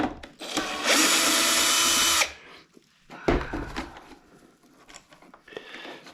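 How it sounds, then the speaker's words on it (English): Power drill backing screws out of a Bissell carpet cleaner housing: one loud, steady whirring burst lasting about a second and a half, then brief clicks and handling clatter of the plastic casing, close by. "We'll just keep taking screws off until it falls apart."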